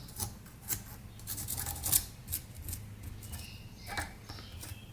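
Rust is scraped by hand off a part from a junkyard Yamaha Blaster quad, a quiet, close series of short raspy scrapes and rubs in an irregular rhythm.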